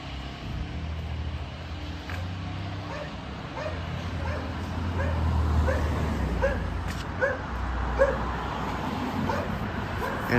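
A dog barks and yips repeatedly in short bursts at moderate distance during an afternoon outdoor stroll, over steady street and traffic background noise.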